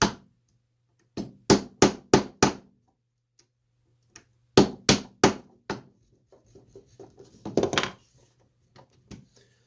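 Sharp hammer blows drive a punch against an old wooden chair's mortise-and-tenon joint, falling in bursts of four or five evenly spaced close, ringing strikes with pauses between and softer taps toward the end.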